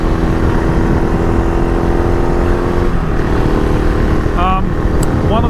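An AJP PR7 adventure motorcycle is ridden with a steady, loud engine drone throughout, along with wind rush and a few brief higher tones near the end.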